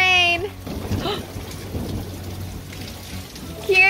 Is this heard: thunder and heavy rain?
yes